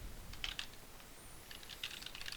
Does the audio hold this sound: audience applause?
no